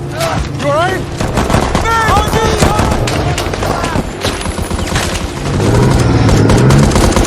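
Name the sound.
gunfire in a war film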